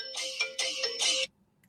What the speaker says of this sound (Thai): นี่โทรศัพท์มา